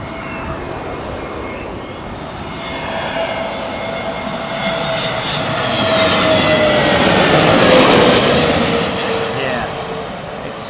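Airbus A320neo jet engines on arrival, passing over a paddock: a loud, whining engine roar with a high tonal hum that swells to a peak near the end and then eases slightly.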